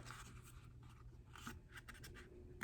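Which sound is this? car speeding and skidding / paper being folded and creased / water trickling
paper being folded and creased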